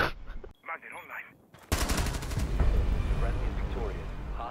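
Sniper fire in a video game, a sudden loud crack that opens into a sustained roaring burst of gunfire and rumble, with game audio continuing underneath.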